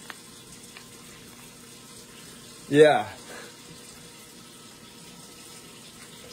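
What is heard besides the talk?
hot water running from a tap to thaw frozen cauliflower wings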